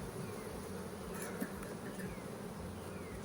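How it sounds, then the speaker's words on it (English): Honeybees drone steadily in a hive's bottom box on an overcast day, a dense continuous buzz with no voices over it. "There are a lot of bees in this bottom box."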